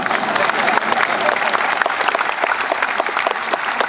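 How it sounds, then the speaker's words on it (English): Audience applause after a keynote speech at a Johns Hopkins event, a dense, steady wash of many hands clapping close and loud throughout, with no voices over it. "you can applaud, thank you very much"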